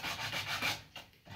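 Sandpaper rubbing along a wooden paddle bow, held at an angle: close, soft scratchy strokes in a steady back-and-forth rhythm, briefly easing off before starting again, with no talk.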